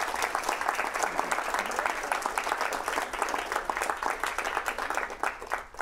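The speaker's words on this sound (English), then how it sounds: "I think that deserves a round of applause." Sustained audience applause fills a room at a talk on Tibetan murals, dense steady clapping from many hands without pause, loud and continuous throughout.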